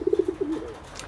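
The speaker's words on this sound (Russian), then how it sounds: "Ну, а сейчас предлагаю посмотреть голубей." Pigeons coo close by: a quick series of four or five soft throaty pulses rolling into a longer descending warble, with faint rustling behind.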